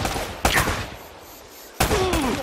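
Two sharp, loud gunshot bursts from Uncharted: Drake's Fortune crack out about a second apart, each trailing into a rough ringing decay over quieter game ambience.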